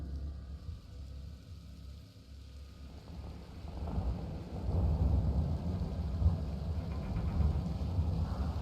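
Rain and rolling thunder build in the sci-fi video game Mass Effect Andromeda, a low rumble swelling into a steady heavy downpour that stays fairly loud.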